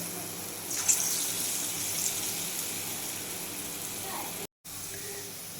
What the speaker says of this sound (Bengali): দেখুন আমি বড়াগুলো কিন্তু একবারে লো আছে ভেজে নিচ্ছি।